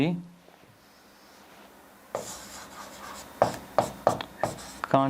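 Marker or chalk strokes scratch across a board during a Class 11 maths lesson on relations and functions, starting after a quiet stretch and building into quick rhythmic strokes with a few sharp taps, close and clear.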